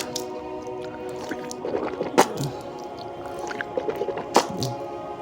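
Water sloshing and squishing in and around the mouth during Shia wudu ablution, with soft wet swishes and two sharp splashy peaks, close and moderately quiet against faint background hum.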